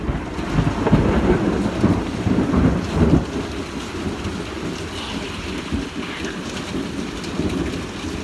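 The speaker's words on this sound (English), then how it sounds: "Here comes the thunder." Steady heavy rain pours down while deep thunder rolls and rumbles, strongest early on before easing into a continuous wash of rainfall.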